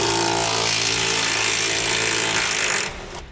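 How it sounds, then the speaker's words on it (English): Power tool driving a 13mm socket on a short extension to remove a bolt from the frame of a 2009 Ford F-150 while installing air helper springs, a loud continuous whirring buzz that cuts off near the end. "We're going to use a 13mm socket and a short extension to remove the bolt located up inside that"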